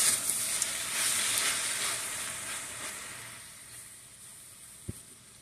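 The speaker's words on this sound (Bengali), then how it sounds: "ভালো করে একবার নেড়ে চেড়ে নেব।" Jute leaves fry with dried shrimp in a pan, a soft broadband sizzle that gradually fades, with a single sharp tap of a utensil near the end.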